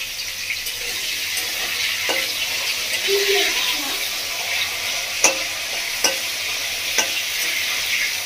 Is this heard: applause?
no